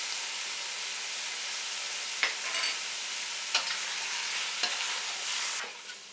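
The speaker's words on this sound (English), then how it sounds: "You always want to fry the chili powder." Chili powder frying in extra oil with browned meat for slow-cooker chili, a steady broad sizzle punctuated by a few sharp stirring scrapes, close and alone without talk.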